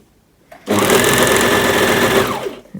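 A sewing machine runs in one steady burst of rapid stitching through fabric for about two seconds, close and loud, then slows and stops.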